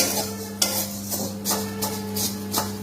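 Maggi noodles dry-roasting in a pan with no oil, stirred in slow, regular strokes. Each stroke gives a soft scrape with a faint rustle, over a low steady hum.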